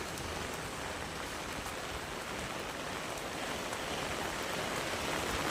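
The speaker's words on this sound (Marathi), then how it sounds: "जोरदार पाऊस आहे" A dense, unbroken downpour of heavy rain hisses loudly and evenly throughout, drumming on surfaces close by.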